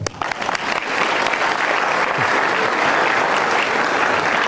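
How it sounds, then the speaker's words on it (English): Applause from an audience gathered in a school chapel, a dense, steady wash of many hands clapping that swells quickly and holds at full strength throughout. "So y'all want to clap it up for my dad."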